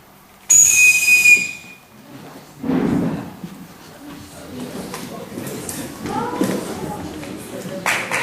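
A sharp, shrill whistle blast rings out near the start, followed by people talking and moving over a busy background.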